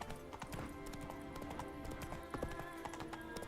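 A horse gallops in the video game The Witcher 3, hooves clip-clopping in a quick steady rhythm over a background of game music and ambience, moderately close.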